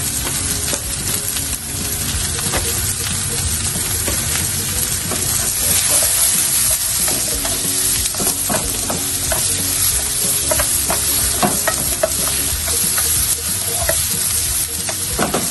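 Hotdogs frying in a pan with garlic, a loud, steady sizzle and crackle with occasional stirring scrapes and clicks throughout, no talking.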